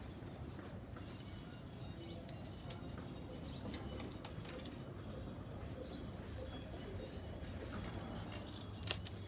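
Scissors snipping paper to cut out a handmade bookmark, quiet intermittent crisp snips spread across a soft, low background.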